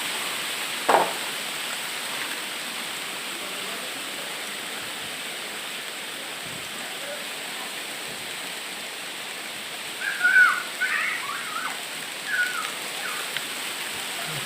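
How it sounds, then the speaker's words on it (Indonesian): Volcanic sand raining down during an eruption of Mount Merapi makes a steady, even hiss that persists throughout, with a few faint knocks and rustles scattered over it and no voices. "Hujan pasir, ya Allah. Hujan pasir."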